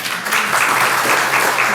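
Applause from a church audience at a testimony concert, welcoming a speaker to the stage, with steady dense clapping filling the hall throughout and no voices over it.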